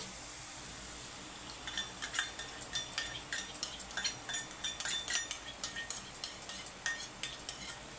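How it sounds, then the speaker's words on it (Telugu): A spoon stirs masala into thick yogurt in a bowl for egg masala curry, tapping and clinking against the rim in a steady, fairly quick rhythm after a quiet opening; close and light, with no voices. "కలుపుకోవాలి మంచిగా పెరుగులో మొత్తం మసాలా మొత్తము కలిసేటట్టు మనం కలుపుకోవాలి"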